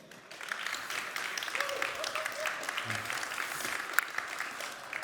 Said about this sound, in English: please give Per a big applause